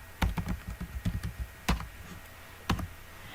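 Someone types code on a computer keyboard in quick uneven runs of crisp, close keystrokes, ending with a few separate taps. The keys are alone with no talking.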